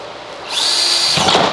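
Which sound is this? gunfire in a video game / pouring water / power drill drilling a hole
power drill drilling a hole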